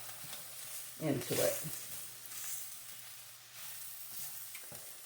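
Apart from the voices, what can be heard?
flour frying with sausage in a pan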